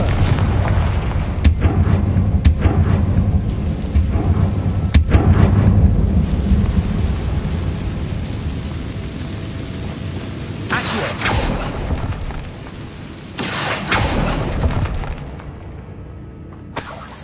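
Bombarda and Confringo spells detonate one after another in Hogwarts Legacy, a heavy, rumbling barrage of booming blasts and sharp cracks that rolls on and gradually settles, with fresh bursts near the end.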